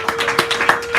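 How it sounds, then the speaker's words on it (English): Brief applause at a San Francisco café poetry hour for a poetry reader coming up, a few close, distinct claps in an uneven rhythm over about a second, with a faint steady tone beneath. "give him a round of applause as he comes here"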